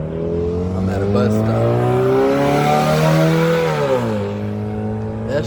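A bus pulling slowly away from a stop at about five miles an hour, its heavy engine droning loudly and close, the pitch rising and then dropping as it shifts gears, while people talk over the noise.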